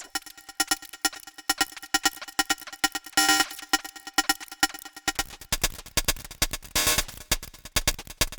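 An Elektron Tonverk pad-sample hi-hat played without rectification: a rapid, ticking pattern of short noisy hits over a busy electronic groove, with two brief bright noise swells, steady and fairly quiet.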